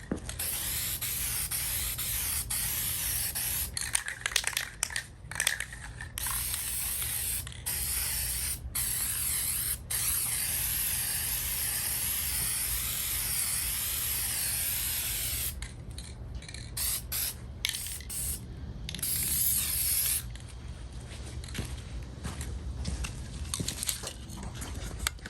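Fine coat of spray paint hissing onto a part from a SKIL Model 577 reciprocating saw, a soft continuous spray broken by short pauses between passes, close and quiet with no talk.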